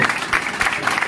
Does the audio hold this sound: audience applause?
yes